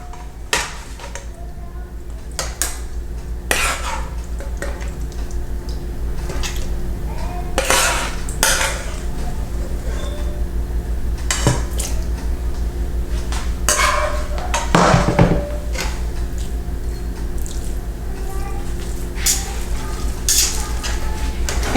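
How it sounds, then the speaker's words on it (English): Metal spoon scraping and clinking against a pot as Jamaican-style ackee and saltfish seasoned rice is stirred from the bottom, with repeated loud scrapes and knocks over a steady low hum, no talking. "always stir from the bottom, so we have all that rice come on top"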